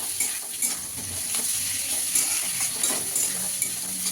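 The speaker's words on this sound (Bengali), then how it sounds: "টমেটোটাও দিয়ে দেবো। টমেটোটা দিয়ে একটু ভেজে নেবো।" Tomato sizzling in a pan with chillies, ginger and garlic while being cooked for butter chicken, giving a steady close crackle of frying broken up by scraping stirs and light clinks of utensil against pan.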